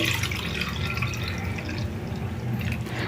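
Steady running water trickles and splashes continuously into a bowl, a constant liquid pour with no talking.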